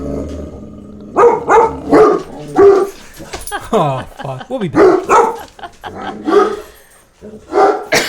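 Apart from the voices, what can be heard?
dogs barking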